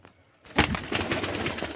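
After a quiet start, a single Kagji male pigeon breaks into close, loud cooing that continues to the end, with a busy, scratchy texture.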